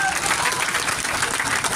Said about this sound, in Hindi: ुकेश राजवंशी, राहुल राजवंशी और रोशन राजवंशी, सभी साथियों के नाम पे जोरदार ताली बजा करके स्वागत करिए